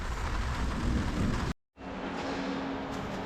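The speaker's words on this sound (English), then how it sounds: "Should we just sit and watch the rain?" Steady heavy rain with a thunder rumble, loud and continuous, cutting out briefly before the downpour resumes.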